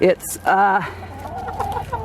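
Backyard hens cluck in a chicken coop, a few short, close clucks and calls with someone talking briefly between them.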